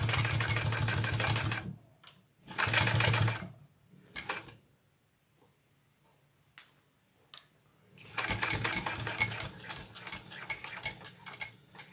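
A sewing machine stitches up a bucket bag seam in several bursts, with a longer run at the start, a second burst, a short one, and then a long stretch to the end, broken by quiet pauses.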